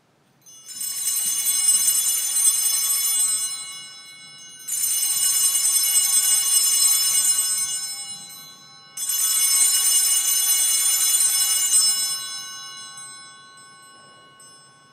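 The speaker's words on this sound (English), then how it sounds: "when he elevates the chalice, ring the bells three times also" Church altar bells rung three times at the elevation of the chalice during Mass: three loud, bright, shimmering bursts of ringing, each lasting a few seconds with short gaps, the last fading out, no talking.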